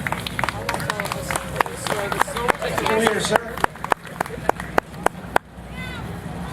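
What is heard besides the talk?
audience round of applause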